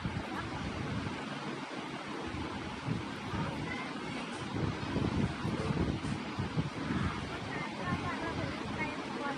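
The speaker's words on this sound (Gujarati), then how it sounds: "ઠંડી ઠંડી હવા આવે છે" Cool breeze blows across a lake, a broad windy rush buffeting the microphone steadily throughout, with faint talk somewhere in the background.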